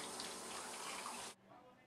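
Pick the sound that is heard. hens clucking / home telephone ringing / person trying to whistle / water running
water running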